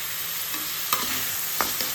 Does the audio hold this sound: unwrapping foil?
no